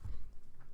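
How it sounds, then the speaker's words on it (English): A single short cough bursts out at the end, close and fairly loud after a moment of quiet room tone. "my cough is still there, but it's almost gone"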